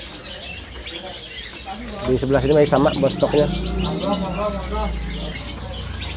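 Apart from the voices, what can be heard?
caged birds chirping at a bird shop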